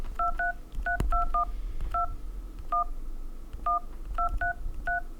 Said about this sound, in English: I'm going to play the Charlie Brown theme for you.